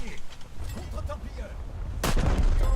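Heavy naval guns on a French battleship, the Strasbourg, fire in a battleship game: one loud, booming blast near the end over a low rumble, with someone talking faintly early on.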